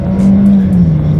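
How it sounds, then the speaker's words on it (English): A 2019 Jeep Renegade with a turbocharged engine accelerating, a loud steady engine drone that holds its pitch and then eases slightly, heard from inside the car with no talking. "Let's do a quick little acceleration to see how quickly we can get this 2019 Renegade here up to speed."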